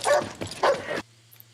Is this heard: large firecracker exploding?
no